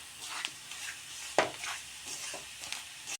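Semolina roasts over a low flame for sooji halwa, with a soft hiss of dry frying and occasional scrapes and taps of a spoon stirring against the pan.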